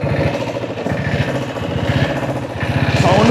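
A diesel-engined motorcycle runs nearby with a loud, steady low-pitched chugging beat that rises slightly toward the end.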